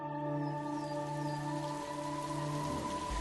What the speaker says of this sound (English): Right, the rain is here,